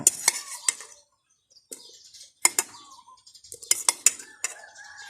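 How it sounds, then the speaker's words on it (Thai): Chili, shallot and garlic pounded in a mortar for a spicy Thai Isan dish: sharp irregular knocks in bursts with short pauses, close and fairly quiet, birds chirping faintly outdoors. "ตำพริก พริกหอมกระเทียมลงไปก่อนเลย"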